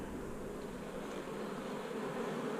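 Honey bees buzz steadily around an open hive as frames are lifted out, a soft continuous hum with no voices over it.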